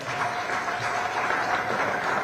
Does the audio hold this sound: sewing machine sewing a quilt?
no